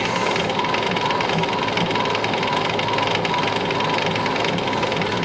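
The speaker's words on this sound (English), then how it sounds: "put a needle in there, flip the record over, wind it up" Victor Victrola VV-50 oak phonograph being wound by its crank, a steady dense ratcheting clatter of spring mechanism and gears, loud and close, running continuously without a break and with no talking.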